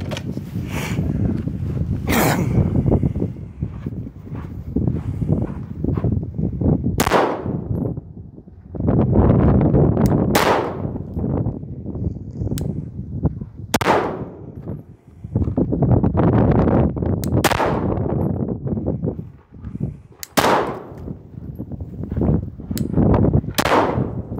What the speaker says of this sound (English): go ahead and draw and fire when ready